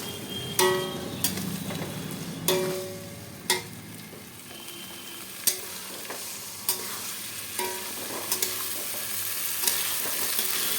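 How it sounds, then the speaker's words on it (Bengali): A ginger and cumin paste masala sautés in oil for vegetarian ghugni, a steady close frying sizzle broken by repeated sharp clinks and scrapes of a spoon stirring against the pan. "এরপর চলুন কষিয়ে নিই মশলাটা"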